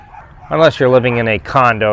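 Dogs bark and yip in the background of a home in the Philippines, partly masked by someone talking close by throughout.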